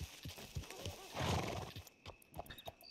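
A horse in the video game Red Dead Redemption 2 whinnies and neighs, with clip-clop hoof steps and snorts close by, loud and alone with no talk.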